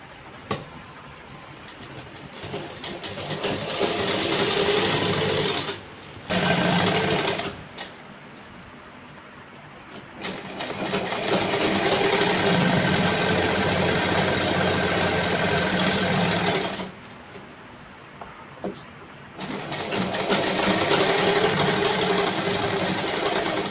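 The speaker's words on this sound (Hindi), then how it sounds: "तो हम आगे का काम अब मशीन पे करेंगे। तो देखिए मैं इधर से अब इसे ऐसे स्टिच कर दूंगी" A domestic sewing machine stitches the seams of a circular palazzo, running in long steady bursts with brief pauses between runs, loud and close with no voices.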